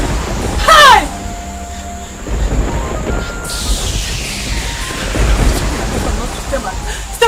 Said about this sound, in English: This thunder and lightning,